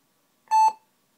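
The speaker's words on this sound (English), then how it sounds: "Oh, that time is two beeps." A single electronic error-code beep from a Toshiba computer, steady and clear, lasting about a quarter second against silence.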